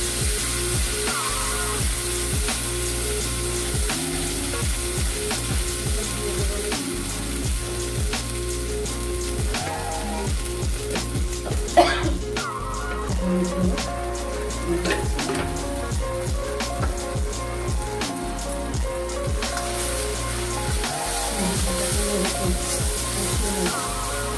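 Spice paste for doi katla posto sizzling in hot oil, a continuous crackling patter like rain on a surface, close and even throughout with a single sharp clatter midway.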